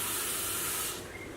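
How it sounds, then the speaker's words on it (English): Water spraying and hissing into a container for microwaving noodles, a loud, airy rush that cuts off abruptly after about a second, leaving a quieter trickle. "I'm just going to put a bit of water in"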